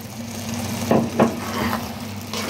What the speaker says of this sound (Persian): لازمه که 1 لیوان دیگه بهش آب جوش اضافه کنیم